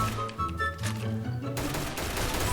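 Gunfire in the Roblox shooter Arsenal crackles as loud, rapid bursts layered over tonal game sounds, turning into a dense, noisy barrage near the end.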